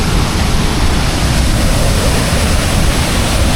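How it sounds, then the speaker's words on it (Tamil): Soochipara waterfall in Wayanad roars during the monsoon, a loud, dense, unbroken rush of falling water close by with no voices. "இதுதான் பார்த்தீங்கன்னா அந்த சொச்சிபுரா வாட்டர் ஃபால்ஸ்."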